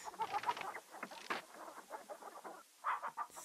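Chickens cluck in the King's Quest III adventure game, a run of quick, fairly quiet clucks and squawks in short bursts with brief pauses between.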